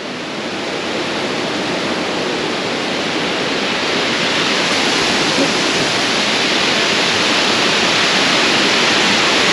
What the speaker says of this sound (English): Spectacular waterfall.